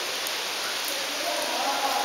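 Heavy rain pours steadily, a dense, even hiss of drops close by with no pauses, filling the whole stretch.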